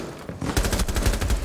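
A short, loud burst of rapid automatic gunfire in the video game Rainbow Six Siege, starting after a brief pause and rattling continuously to the end.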